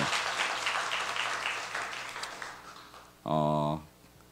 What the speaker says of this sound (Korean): 우리 다시 한번 큰 박수 해주시기 바랍니다